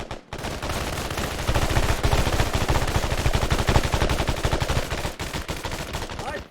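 Firearms fired at the ground outdoors in a rapid, continuous stream of loud shots that runs the whole time with only brief gaps, like sustained automatic gunfire.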